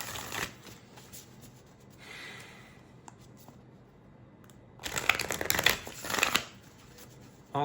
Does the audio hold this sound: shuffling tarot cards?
yes